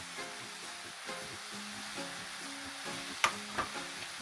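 Teriyaki sauce poured into a broccoli and spaghetti squash stir fry pan sizzles and crackles steadily at close range, with a few sharper clinks of a utensil near the end.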